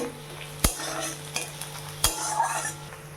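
Onion frying in a pan gives a steady sizzle broken by two sharp clinks and scrapes of a spoon stirring, without any talking.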